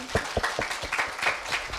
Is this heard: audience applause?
yes